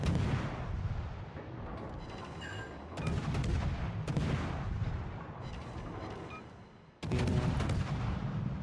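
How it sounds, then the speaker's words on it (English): Yamato battleship shell salvo in World of Warships, heavy booming artillery blasts and rumbling impacts landing in several loud bursts, with a big fresh volley near the end. "Just dodging the Yamato salvo, we're okay there."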